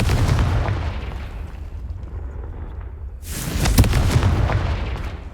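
A loud, booming blast from the Confringo blasting spell in Hogwarts Legacy rolls into a long rumbling decay. A second sharp burst follows partway through, with crackling debris over the low roar.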